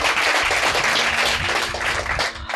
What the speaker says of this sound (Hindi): माँ के लिए एक बार ताली बजा लो यार जल्दी से।